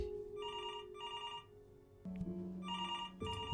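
Telephone in the game Before Your Eyes ringing in repeated short electronic trill bursts, fairly clear over a low background tone, with a brief pause before the final ring.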